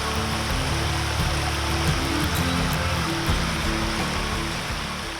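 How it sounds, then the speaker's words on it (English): Rattlesnake Hollow Creek and its waterfall in the Ozark National Forest make a steady, loud, dense rush of falling and flowing water that continues without a break and fades slightly at the end. "And here we have Rattlesnake Hollow Creek. Now this is just for starters. Down there is Rattlesnake Hollow Falls."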